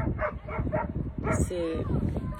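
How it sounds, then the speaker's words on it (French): A dog barks repeatedly in quick, close yaps, followed by a whining, whimpering tone. "J'aimerais bien qu'il s'arrête d'aboyer"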